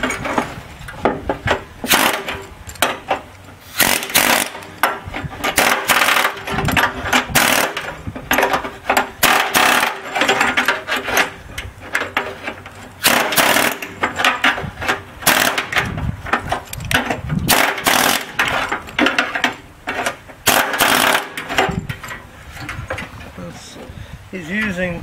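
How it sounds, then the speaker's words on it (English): An air hammer and spot welder work on a car body in a garage, making dense rapid metallic rattling and banging in repeated bursts with brief pauses, loud and close, with occasional talk underneath. "Along with spot welder and the air hammer, we get a lot of progress."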